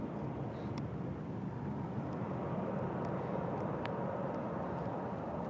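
A CFM56-powered airliner engine roars at Heathrow, a steady, dense broadband rumble heard from a distance, continuous and even throughout with no speech over it.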